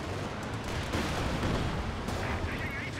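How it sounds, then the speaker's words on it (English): Grenade blasts in a Company of Heroes 2 battle on the Essen Steelworks map, heard as dense, booming explosion rumble with crackling gunfire layered throughout, loud and continuous with no clear gaps. "throw grenades, run a little more, almost hit themselves with their own grenades"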